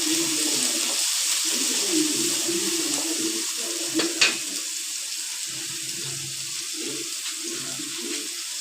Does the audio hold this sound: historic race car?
no